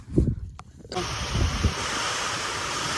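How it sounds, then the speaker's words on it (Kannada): Strong wind roars steadily against the microphone after a brief moment of low voices and rustling at the start. "ಸಿಕ್ಕಾಪಟ್ಟೆ ಗಾಳಿ ನೋಡ್ರಿ ಹಂಗೈತಿಗ."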